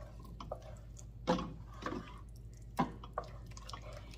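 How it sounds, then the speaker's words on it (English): A spoon stirs a salted and peppered mixture in a pot, giving soft wet squishes and occasional scrapes over a low steady hum, close and fairly quiet with no talk. "Let's give this a stir."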